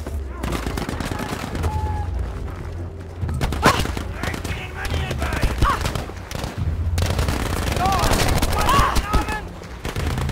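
Rockets and gunfire in the video game Battlefield V, with sharp bursts, thuds and crackling explosions coming in irregular waves, mixed with game noise while a player talks.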